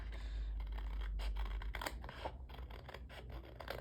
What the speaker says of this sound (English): And now we do have to cut